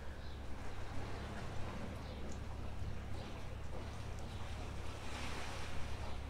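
Ocean waves washing onto a sandy shore, a steady wash of surf with gusty wind across the microphone, continuous and moderately loud with no clear individual breaks.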